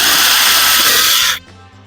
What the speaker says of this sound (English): Next, I'm going to drill a hole in the center.